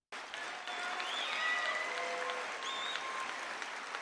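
Crowd applauding and cheering at a Donald Trump rally in Iowa, sustained, dense clapping that holds steady for about four seconds, with scattered whistles rising above it.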